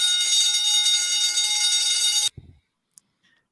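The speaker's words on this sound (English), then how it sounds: "That is a alarm bell." An alarm bell rings loud and continuous for about two seconds, then cuts off abruptly, leaving a few faint knocks and near silence.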